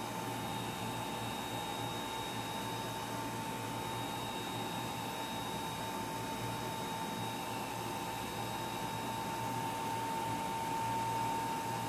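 A Ranger air blower drying alcohol ink makes a steady, continuous whirring hum with a faint high whine, unbroken and alone for the whole stretch.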